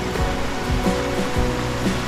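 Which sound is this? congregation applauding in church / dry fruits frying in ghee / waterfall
waterfall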